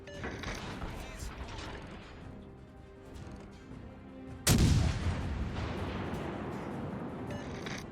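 A big gun firing in a video game, a loud sudden boom midway that rings out and decays over a busy backdrop of game sounds and music.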